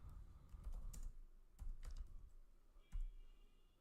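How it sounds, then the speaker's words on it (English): Keystrokes on a computer keyboard entering a short command, a few quick clusters of taps with pauses between, ending on a firmer keypress, close and fairly quiet. "type git pull"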